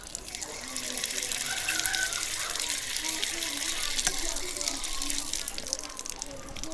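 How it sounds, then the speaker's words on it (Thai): Water gushing steadily from an outdoor tap in a Lao village water project, a continuous hissing flow that runs throughout, with faint voices and distant sounds of village life in the background. "ก๊อกน้ำเนาะ"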